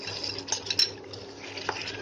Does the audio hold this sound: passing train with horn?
no